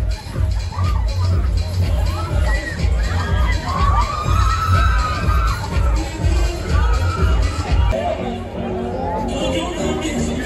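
A crowd of children at a seaside festival screams and cheers loudly and continuously, with shouting and chatter mixed through a steady wall of noise, while rhythmic music thumps underneath.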